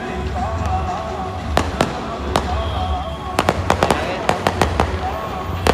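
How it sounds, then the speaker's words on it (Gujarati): Sharp firecracker bangs burst out, first a few spaced pops, then a rapid irregular string of cracks over steady background noise and faint voices. "હમણાં થોડોક ફટાકડા ફૂટે છે ને, ફટાકડા ફૂટે છે."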